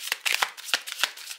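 Tarot-style cards for a reading are shuffled by hand in a quick burst of rhythmic, papery riffles and flicks, close and fairly soft.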